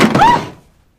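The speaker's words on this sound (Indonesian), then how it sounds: "Seseorang mengetuk pintu begitu keras" A hard knock at a door, delivered in a single loud burst of thumping that dies away within half a second and leaves silence behind.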